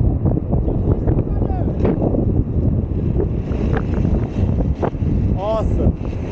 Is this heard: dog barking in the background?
no